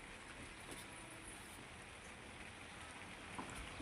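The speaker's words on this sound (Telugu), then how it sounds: "ఓకే వర్షం అయితే పడుతుంది" Faint, steady hiss of rain falling, an even wash of noise with no voices and only a few soft drips standing out.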